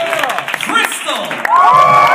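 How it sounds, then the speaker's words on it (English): Brief burst of applause and excited cheering from a teen poetry festival crowd, a shrill yell rising over the clapping toward the end. "Clap for the poets when you hear their name."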